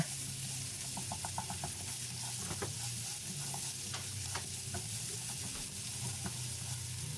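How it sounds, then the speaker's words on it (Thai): Coriander root, black pepper, garlic and ginger stir-fry in a hot pan with a continuous, loud sizzle, while a spatula scrapes and taps in irregular bursts close by; nobody speaks. "ผัดไปเรื่อยๆให้หอมเลยนะครับ"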